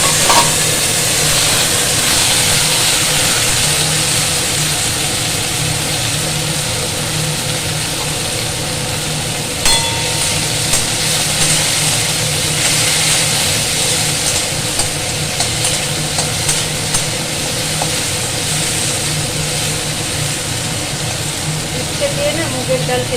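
Bitter gourd slices frying in hot oil give a constant, loud sizzling hiss that runs unbroken, with occasional stirring clicks and a voice talking faintly now and then.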